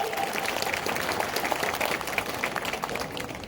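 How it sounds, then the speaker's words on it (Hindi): Audience applause at a political beneficiaries' gathering in Gwalior East, a steady dense wash of clapping from a crowd, sustained and fairly loud throughout with no voices on top. "अब बजाओ ताली अगर रोटी खाना है घर पे।"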